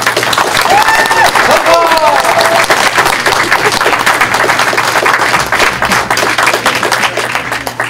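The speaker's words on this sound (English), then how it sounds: "A round of applause for the Convention Director of the Year" Crowd at an awards ceremony gives a long, loud, dense round of applause for a convention director honoree, with a few whoops early on. It holds steady for several seconds before tapering slightly.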